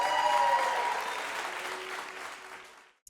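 Applause from an event audience for an award winner at a van company's awards ceremony, a steady dense clapping that fades out over three seconds.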